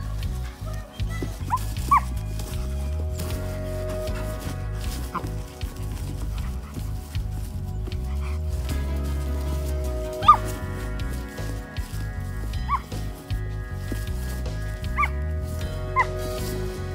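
A dog barks and whimpers in a dramatised children's story scene, with short yips and whines set against a steady background music bed and occasional narration-like voice.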